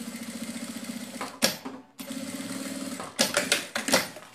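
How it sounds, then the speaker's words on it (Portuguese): Sewing machine stitching the edge of a bag's side pocket, a steady close mechanical whir with rhythmic needle ticking that briefly stops and restarts, ending in a few short bursts. "A gente pode até costurar já esse bolsinho aqui, ó. Uma costurinha de segurança mesmo aqui na beiradinha"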